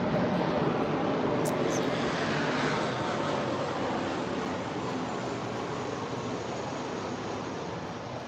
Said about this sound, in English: that was a plane